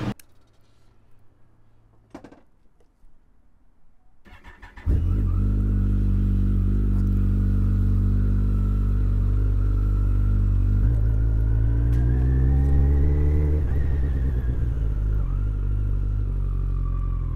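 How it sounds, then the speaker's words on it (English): A Kawasaki ZZR motorcycle, just fitted with new brake pads, starts and rides off: a faint clatter and handling, then a loud, steady mid-range engine drone that rises as it revs and accelerates, with no talking. "let's take the bike out for a ride"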